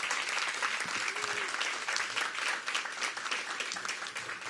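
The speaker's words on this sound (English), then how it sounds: "give them a round of applause" Steady round of applause from an audience at a mayoral workforce event, many hands clapping evenly, a short voice briefly audible beneath.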